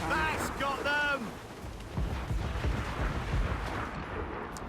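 Naval cannon fire booms from a sailing warship in Assassin's Creed Rogue, heavy blasts rumbling under shouted crew voices amid sea-battle noise.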